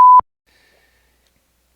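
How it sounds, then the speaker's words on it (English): A single loud censor beep, a pure steady tone about a fifth of a second long, bleeps out a swear word during a bourbon tasting and is followed by near silence. "I apologize for the beep out there"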